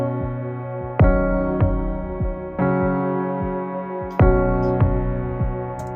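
A kick and percussion drum loop from a produced beat thumps along under sustained harmonic tones, with irregular punchy hits and a few sharper clicks spread across the bar, clear and close with no voice.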